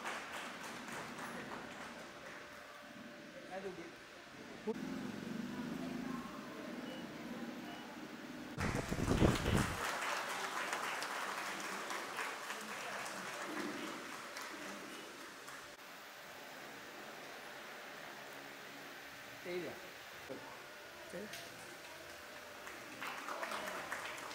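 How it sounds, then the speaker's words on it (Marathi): Audience applause at a school reunion felicitation ceremony, a broad wash of clapping that swells around the middle and continues steadily at moderate volume, with a few scattered louder claps toward the end. "जोरदार टाळ्या वाजवायच्या आहेत."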